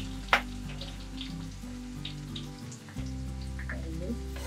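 Chilli, garlic and onion fry in a pan with a steady soft sizzle, broken by an early sharp clink and low hum beneath.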